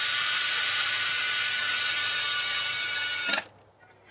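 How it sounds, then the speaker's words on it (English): A power drill whirs steadily at high pitch for about three seconds driving self-tapping screws into shutters, then stops abruptly, leaving near silence. "same thing, they're self-tapping screws, just drill them right back in place."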